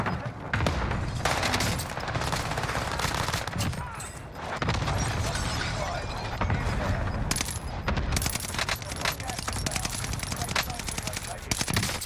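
Rapid sustained automatic fire from an STG44 assault rifle in the Warzone video game, loud and dense bursts with brief gaps, over continuous game background noise.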